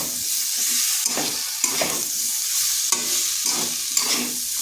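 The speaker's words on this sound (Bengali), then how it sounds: "এরপর এই মশলাটা ভালো করে কষিয়ে নিতে হবে।" Ginger, green chilli and cumin paste being stir-fried in a pan, a continuous sizzle broken by repeated scraping strokes of a spatula about once a second, close and without talk.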